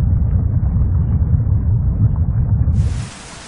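Thunderstorm rumble, a loud, deep, continuous roll lasting about three seconds before it cuts off abruptly into quiet.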